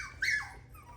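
A Coton de Tulear puppy gives a single short high whimpering squeak, close and clear over a faint low hum, with no talking.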